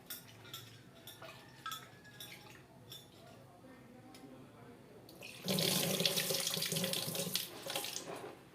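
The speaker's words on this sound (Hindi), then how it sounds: "और दाल को भी आप 2-3 बार धोएं" Tap water runs into a sink as lentils (dal) are washed, starting with light clinks and splashes and then becoming a loud, steady gush of running water over the last few seconds.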